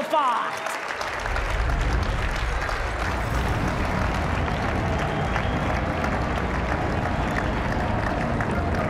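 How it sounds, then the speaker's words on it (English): An audience at a professional awards ceremony bursts into applause for a women's player of the year, a sustained wall of clapping and cheering that rises after a brief announcement voice at the start and stays loud to the end. "please give a big round of applause to the SA Women's Players Player of the Year"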